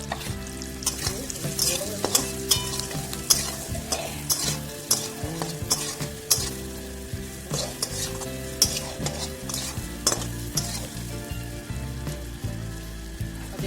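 Turmeric and red chili powder sizzle in a pan of potatoes for butter garlic potatoes, a steady close crackle broken by repeated scraping stirs, with no talking.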